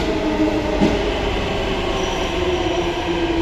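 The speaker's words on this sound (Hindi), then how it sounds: "ये दूसरी ट्रेन आ गई है" A metro train in Noida rolling steadily into a station with a constant rumble and a thin high squeal of wheels, loud and close throughout.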